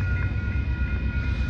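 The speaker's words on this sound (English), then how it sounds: "we got a Uni-Pacific train at the Stockton Diamond coming" Union Pacific grain train rolling past the Stockton Diamond crossing in Stockton, California, a steady low rumble of railcars with a faint high tone over it, continuous and at moderate distance.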